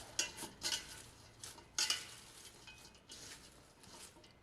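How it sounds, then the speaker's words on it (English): Shredded cabbage being mixed by hand with salt for a large batch of sauerkraut, soft intermittent rustling and crunching bursts, fairly faint and close, with pauses between handfuls. "I'm just going to give this a quick mix together"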